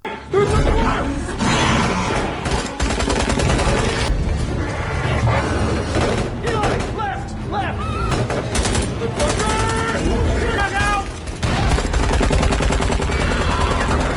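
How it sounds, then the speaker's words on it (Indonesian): Gunfire from an action film sequence of shooting at raptors, dense rapid bursts and loud crashes layered with a dramatic score throughout, sustained and intense. "mereka pun menembaki para raptor itu agar hewan-hewan itu tidak masuk ke dalam tempat ini"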